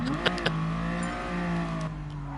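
A race car engine in a PS4 racing video game revs and shifts pitch, with a couple of sharp clicks, as the motor climbs and drops through gears, close and fairly loud.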